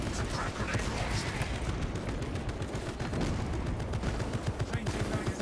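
Video game combat with a crack grenade launched from a launcher amid a servo gun's fire, producing dense, continuous gunfire and explosive bursts, loud and close throughout with speech faintly mixed underneath.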